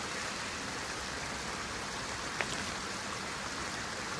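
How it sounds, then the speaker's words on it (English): Steady broadband rushing of flowing creek water near Lake Chickamauga, constant and fairly close, with no voices and only a tiny click midway. "As I sit down here in this beautiful creek, listening to the water flow"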